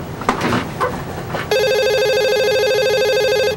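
An electronic telephone ringtone starts partway through and trills steadily and loudly to the end, preceded by a brief burst of mixed noise.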